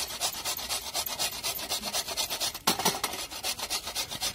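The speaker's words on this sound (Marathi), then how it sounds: "मी आता गुळ पूर्ण किसून घेणार आहे" Jaggery grated by hand, a rhythmic rasping scrape repeated in quick even strokes, close and fairly quiet, with one sharper knock partway through.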